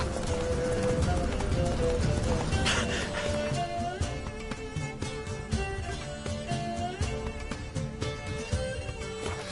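In The Witcher 3, the horse Roach gallops with a rapid, rhythmic clatter of hooves, loud and close, with a brief whoosh partway through and game ambience underneath.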